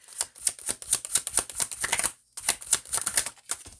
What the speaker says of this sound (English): So I'm going to shuffle pretty fast.